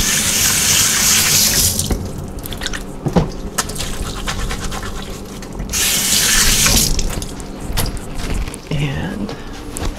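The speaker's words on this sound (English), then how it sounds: "Wash my hands again." Water runs from a kitchen tap for hand washing, a loud close gush with a brief break and splashing as hands move under the stream, no one talking.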